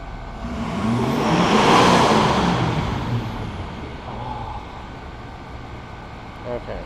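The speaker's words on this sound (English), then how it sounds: "Rev engine to max and hold for 4 seconds" Diesel engine snapped to full revs and held for an exhaust opacity test, a loud close roar that swells, peaks and then winds down into a lower idle.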